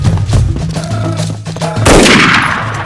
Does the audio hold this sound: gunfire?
yes